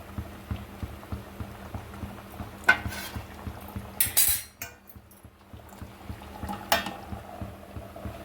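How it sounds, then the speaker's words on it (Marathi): Metal clanks as a lid is set onto a cooking pot of cashew, potato and egg curry. Three distinct clatters sound close by over a low, steady kitchen hum. "आपण याच्यावरच झाकण ठेवूया."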